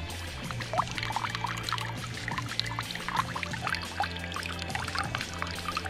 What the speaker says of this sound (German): Kann ich einmal meine kompletten Wasservorräte auffüllen.